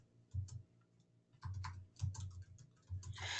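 Quick bursts of keystrokes on a computer keyboard, close and quiet, arriving in short clusters separated by brief pauses.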